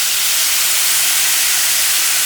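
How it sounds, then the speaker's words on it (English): Water poured into a frying pan of cabbage casserole sets off a loud, steady steaming hiss that fills the whole moment without a break. "I'm going to add a half a cup of water"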